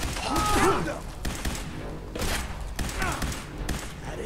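Laser rifle fire in the video game Fallout 4, a few sharp, punchy zaps spaced about a second apart over a steady game background, with someone talking quietly alongside.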